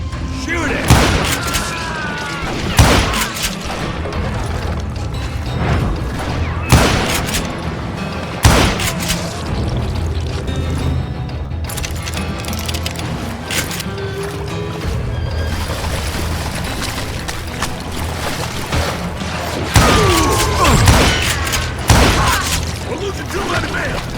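Gunfire in the Wild West shooter Call of Juarez Gunslinger: repeated loud booming shots and bursts, some sharp and close, over a busy battle backdrop with shouting voices throughout.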